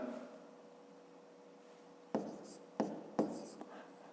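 A pen writes on paper during a math lesson, a few sharp scratchy strokes coming close together after a stretch of quiet, faint murmuring.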